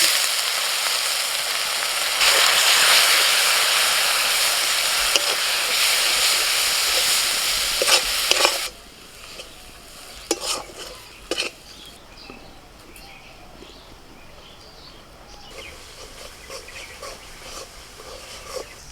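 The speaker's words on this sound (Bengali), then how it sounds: "মশলাটা ভালো করে ভাজা হয়ে গেছে, এবার মশলাতে তেল ছাড়তে শুরু করে দিয়েছে।" Spice masala with cumin, coriander, chilli and turmeric powder, salt and a little water fries in oil in a pan, a loud steady sizzle for the first half, then quieter hissing broken by scraping stirs and clinks.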